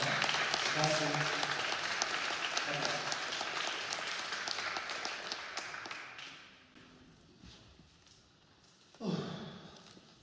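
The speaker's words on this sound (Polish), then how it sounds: "przywitajmy go ogromnym brawa" Warm audience applause welcoming a speaker onto a stage, a dense wash of clapping for about six seconds that fades out, followed by quiet and then a near breath or sigh.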